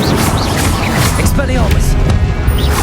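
Incendium fire spell cast during a Hogwarts Legacy battle, a loud blast and crash burst amid dense, busy game combat noise with a voice calling out over it.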